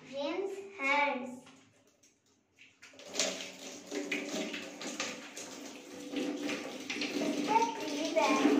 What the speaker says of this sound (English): Step 10, rinse hands.